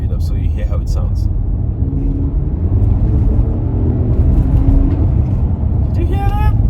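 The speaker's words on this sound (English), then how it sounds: "I'm just going to rev this car. I'll slow down a little bit and then speed up so you hear how it sounds." A Lexus RX 350 F Sport, fourth generation, is revved, easing off and then climbing again in a loud, steady low engine rumble that fills the whole stretch, with a voice briefly heard near the end.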